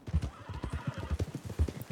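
Quick, rhythmic clip-clop of horse hooves trotting in Red Dead Redemption Online, close and fairly loud, in a short burst.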